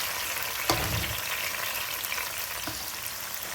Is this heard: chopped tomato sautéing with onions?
yes